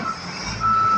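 Steady high-pitched reversing beeps from a 10-wheeler garbage truck, sounding continuously over the low rumble of its engine, close by and fairly loud.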